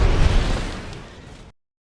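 A rocket fist explosion in the Blade & Sorcery VR game lands as a close, booming blast with a heavy low rumble that decays over about a second and a half before cutting to silence.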